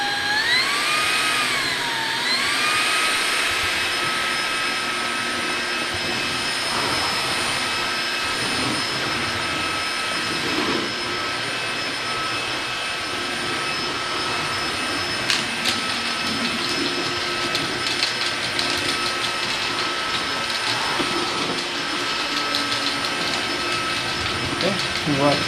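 A Vactidy cordless 6-in-1 lightweight stick vacuum cleaner runs with a steady, close high-pitched motor whine and airflow hiss, its tone shifting slightly as it moves, while a person speaks over it.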